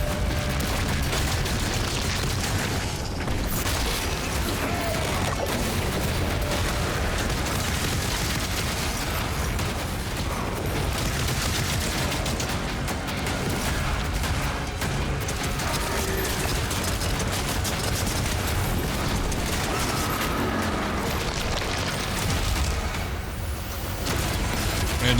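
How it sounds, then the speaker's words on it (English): Grenade launcher blasts and heavy combat noise from the video game DOOM: The Dark Ages, a dense, loud continuous wash of booms and mechanical rumble with no clear separate explosions standing out. "Grenade launcher."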